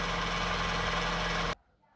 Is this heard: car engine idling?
yes